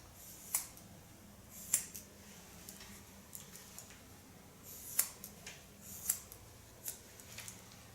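Haircutting scissors snip through long hair being cut off for donation, giving four or five faint, sharp clicks spaced a second or more apart over a quiet, low background hum.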